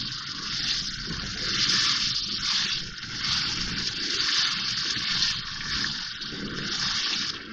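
Keema sizzling and bubbling in a pan with half a cup of added water as it is stirred, a steady hissing, gushing wash of sound close by with no voices.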